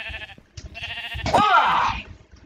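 A sheep bleats twice, close and loud, the second call long and wavering, with faint voices under it.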